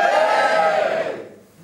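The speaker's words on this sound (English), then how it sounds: "give me a cheer if you're drinking tonight" Comedy club audience at The Joker letting out a loud, brief burst of cheering and whooping that fades quickly to near silence.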